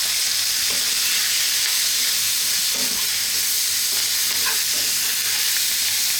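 Canned mackerel frying in a pan over medium heat as salt, pepper, chili and cumin are stirred in, a constant loud sizzle with faint scrapes of stirring throughout.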